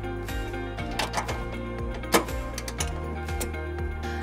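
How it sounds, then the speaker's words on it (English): A socket wrench ratchets in quick, repeated clicking strokes, tightening carriage bolts with a 19 mm socket while a trailer hitch is mounted on a 2013-2022 Nissan Sentra, close and moderately loud with no speech. "Now we're going to tighten and torque our carriage bolts to the vehicle manufacturer specifications using a"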